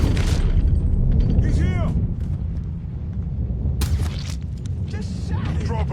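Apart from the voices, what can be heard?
gunfire in video game Mafia III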